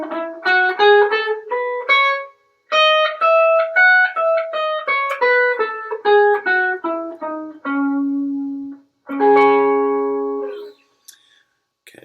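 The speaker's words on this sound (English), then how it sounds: "And that scale will sound like this." A minor scale in fifth position is picked on guitar, a quick steady run of single notes up and back down, ending on a held low note and then a ringing strummed chord.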